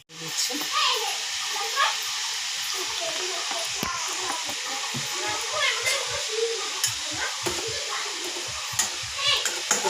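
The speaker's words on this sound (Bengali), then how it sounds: "প্রথমে বাটা মাছটা আমি ভেজে নিচ্ছি" Bata fish sizzles steadily as it fries in a pan, a continuous crackle with faint stirring clicks, while a voice chatters softly in the background.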